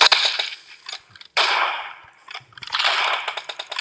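Video game gunfire crackles in sharp, loud bursts, a rapid volley followed by pauses and another sustained burst close up, with no voices.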